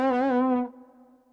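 A guitar played through a Zoom GFX 707 multi-effects unit with the amp simulator switched off: one thin, buzzy sustained note with slight wobble, fairly close, dropping off quickly to a faint lingering ring.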